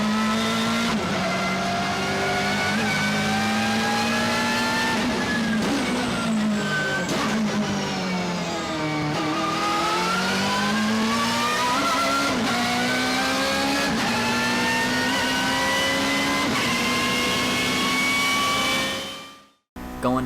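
A race car engine in Forza Motorsport 6 roars continuously, revving up and down through gear changes, loud and close, before cutting off abruptly at the end.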